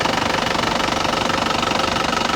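A 2015 Isuzu Crosswind XT engine runs steadily with a rough, knocking idle, loud and close, with a constant mechanical rattle throughout.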